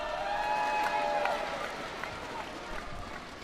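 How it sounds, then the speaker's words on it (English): Malaysian team bench cheering and applauding one another at a Sudirman Cup 2015 badminton match against India, a steady crowd roar with clapping and scattered shouts filling the hall. "isn't that terrific to see the Malaysian team bench, everybody cheering one another"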